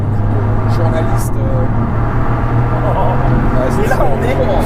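A Toyota GR Yaris Track Pack's 261 hp, 1.6-litre three-cylinder engine drones steadily from inside the moving car, a low, even hum that carries on under a man's speech.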